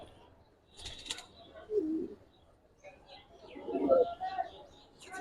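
Giribaz pigeons cooing in a bird market, a few soft low coos spaced out over several seconds, faint and close, with brief chirps and quiet background noise.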